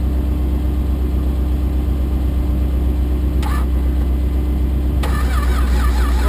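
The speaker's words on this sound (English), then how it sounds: "Seems to be cranking better." A Valiant car engine being cranked on its first start-up in 25 years, a steady loud droning starter churn that continues without a catch, with a couple of brief clicks partway through.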